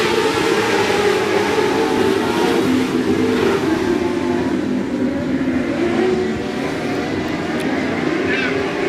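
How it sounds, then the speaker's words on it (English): Texas Mod Lights race cars roar around the 105 Speedway oval in a loud, continuous wash of engine noise. The pitch sweeps gradually as the pack passes, with no clear breaks. "we're green flag racing once again for the Texas Mod Lights"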